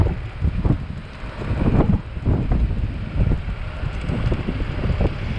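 Wind rushes past while riding a Xiaomi Pro 2 electric scooter to work, a steady low roar of buffeting with gusty swells and rustling throughout.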